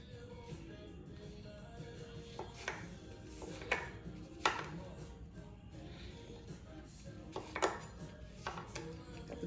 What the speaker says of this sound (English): It's taking me a little while with this knife.